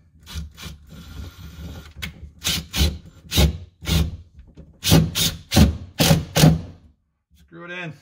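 A power driver sends drywall screws through a wooden board for under-stair wine storage, giving repeated short bursts of whirring and grinding in quick succession, close and loud. A brief voice comes in at the end.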